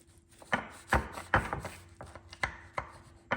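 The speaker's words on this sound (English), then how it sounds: "So let's just cut a slice." Knife slicing through a French coconut pie that is still a little warm on the bottom, heard as a series of about eight sharp, close cutting taps at an uneven rhythm with no talk.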